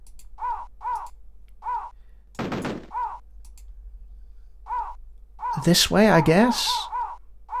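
Bird caws repeat in a steady rhythm in the 1993 DOS game Cannon Fodder, interrupted by bursts of gunfire, with someone talking over the later part.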